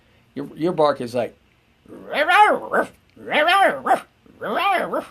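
A human voice imitates the bark of a New Guinea singing dog with four drawn-out, rising-and-falling yelping calls in a steady rhythm, each separated by short pauses, loud and close.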